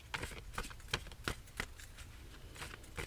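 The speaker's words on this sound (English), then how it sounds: "I'm shuffling it from a deck called Mindful Readers" A Mindful Readers tarot deck being shuffled up close, a quiet run of crisp riffling bursts and soft card slaps at an uneven rhythm.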